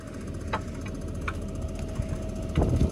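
Tractor engine warming up before ploughing, a steady low rumble running continuously at moderate level with a few brief higher clanks and knocks over it.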